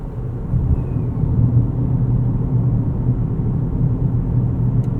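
Cabin road noise inside a 2026 GMC Terrain AT4 in normal driving, a steady low rumble and tire hum that stays even and continuous, with no talking.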